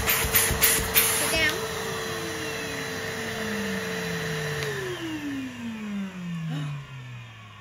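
A Henry vacuum cleaner runs with a steady, fairly loud motor whine that gradually drops in pitch toward the end.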